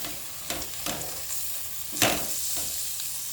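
Carrot halwa being stirred in a pan with cashews and almonds, giving a few soft scraping strokes over a low, steady sizzle of ghee, close and fairly quiet.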